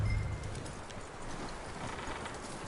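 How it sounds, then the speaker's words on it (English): Horse hooves clip-clop faintly on the ground in the Red Dead Redemption 2 game, a soft, fairly steady rhythm under a hissing ambient background. "That looks like a decent horse."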